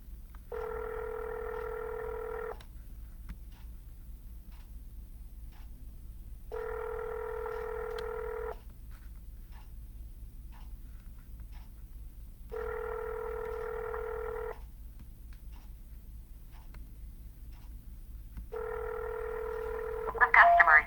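A telephone line rings during a real estate cold call. Four evenly spaced ringing tones sound, each about two seconds long with roughly four-second gaps, heard clearly over a quiet background.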